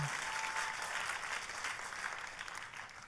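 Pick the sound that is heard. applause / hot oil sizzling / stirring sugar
applause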